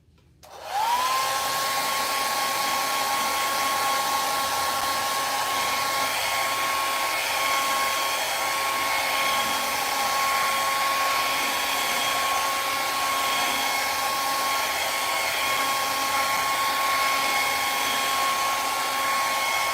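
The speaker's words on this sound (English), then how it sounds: "Okay, let me grab the hair dryer." A hair dryer, used on acrylic paint, switches on and runs steadily for the whole stretch, a loud, constant whirring roar with a high whine and no talking.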